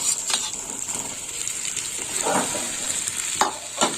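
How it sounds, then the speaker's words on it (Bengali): Potatoes, taro and spices stir-fried in a pan for a prawn curry, a steady close sizzle broken by a few soft scraping strokes of the spatula, without talk. "এখন দেখুন এইভাবে কষে নিতে হবে"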